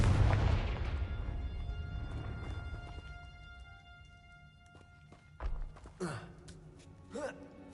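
A Confringo blasting spell explodes in a Harry Potter video game, a loud low blast that rings out and fades over a few seconds, followed by a handful of sharper thuds and crackles.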